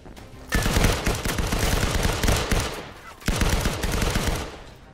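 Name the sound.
gunfire in a video game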